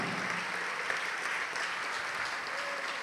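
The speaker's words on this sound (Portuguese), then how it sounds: "Vamos aplaudir mais ao nome de Jesus." A church congregation claps in sustained, even applause during a Portuguese-language sermon, a wash of many hands heard at moderate distance with no individual claps standing out.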